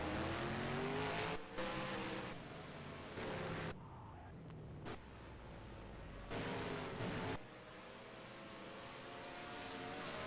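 Race car engines whine steadily from a sim racing game at Phoenix Raceway in the Maverick Cup series, with rising and falling pitch as cars pass, continuous and fairly loud with brief dips.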